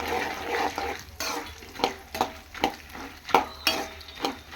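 Roasted gram (putani) frying in hot oil for a spicy North Karnataka churumuri snack, with a steady sizzle broken by rhythmic scraping strokes of a spoon stirring the pan, close and fairly loud.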